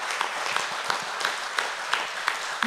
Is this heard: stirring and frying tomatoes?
no